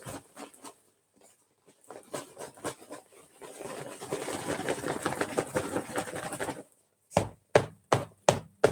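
Paper slips shuffled by hand for a prize draw, scattered rustles that grow into a dense crinkling flurry midway, then a few sharp separate taps, close and fairly quiet.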